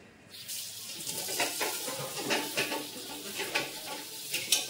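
Dishes being washed at a kitchen sink, with running water and clinking, scraping strokes in an uneven rhythm, close and moderately loud, while coffee milk heats on the stove nearby.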